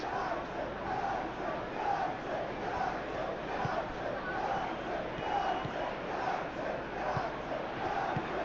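Stadium crowd from a Master League football video game, a steady roar of many voices with rhythmic rises and occasional thuds, continuous and fairly loud throughout.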